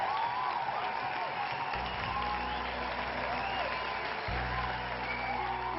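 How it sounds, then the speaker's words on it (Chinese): Steady audience applause fills a crowd at a televised Mid-Autumn Festival concert, continuous and fairly loud from start to finish, with a low musical drone entering partway through. "恭喜你，掌声啊鼓励"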